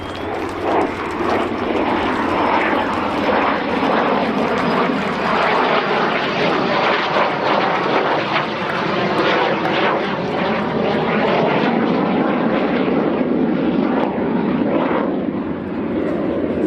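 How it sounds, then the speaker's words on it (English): A Mistral Warbirds F-86 Sabre Mk.6 jet performs a flying display at Old Buckenham Airshow, its loud, continuous broadband engine roar sustained and steady throughout, with no talk over it. "the F-86 Sabre."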